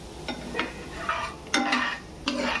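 Curry leaves roast in hot oil in a pan for chutney, giving a soft sizzle broken by a handful of sharp stirring scrapes and clinks spaced about half a second apart.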